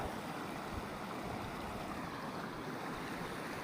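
A small mountain stream in winter in remote Knoydart, UK, rushes and splashes steadily, a dense continuous wash of water heard up close with no talk.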